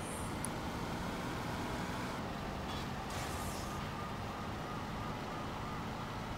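A police siren wails in Saints Row 2 over a rumbling engine and traffic as cops give chase, a loud continuous mix with no talk.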